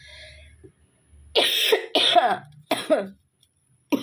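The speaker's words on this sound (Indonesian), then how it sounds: "Aku lagi batuk ya." Three harsh coughs close by, in quick succession, with a fourth starting at the end, separated by brief silences.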